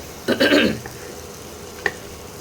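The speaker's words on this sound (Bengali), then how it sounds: "এবার মশলা দিয়ে তেল ছাড়তে আরম্ভ করেছে" Spices fry in oil in a pan for a tomato prawn curry, with a brief burst of stirring and sizzling followed by quieter frying and a single sharp clink near the end.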